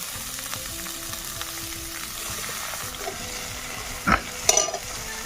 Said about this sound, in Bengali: রসুনটা হালকা সেন্ট বের হয়েছে এই সময় দিয়ে দিচ্ছি আমি পেঁয়াজ কুচানো